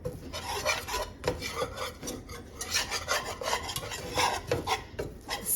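A whisk scrapes and rasps rhythmically against a pan while flour is worked into melted butter, repeated close strokes at moderate volume with no talking.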